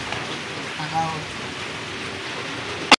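Steady rain hisses as a dense, even wash throughout, with a faint voice briefly over it and a sharp close knock right at the end.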